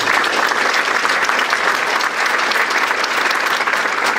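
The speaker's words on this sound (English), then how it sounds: "if we could give them a big round of applause for their participation" An audience at a regional innovation awards ceremony gives a steady, full round of applause, dense and even throughout with no talk on top.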